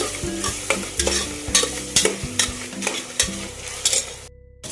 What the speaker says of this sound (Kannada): ಈರುಳ್ಳಿ ಹಾಕಿ ಚೆನ್ನಾಗಿ ಫ್ರೈ ಮಾಡಬೇಕು